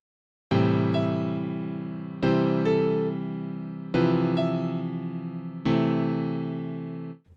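Four sustained virtual grand piano chords struck one after another at a slow, even pace, each ringing out and decaying before the next, with a soft note pattern between them.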